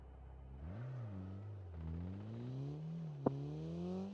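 A Ducati motorcycle engine in a video game revs and rises in pitch, a close, steady mid-range drone that climbs through several gear-like sweeps, with a brief sharp click near the end.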